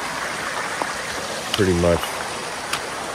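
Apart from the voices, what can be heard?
mountain stream flowing on hiking trail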